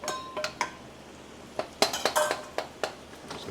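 A utensil breaking up scrambled eggs with tomato in a pan, a string of light clinks and scrapes coming in uneven clusters, close and moderately loud, with no voices.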